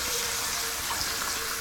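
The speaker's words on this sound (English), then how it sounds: "I'm going to just cool off my pan." A hot cooking pan being cooled off gives a steady, hissing sizzle like water hitting hot metal, close and continuous throughout without pauses.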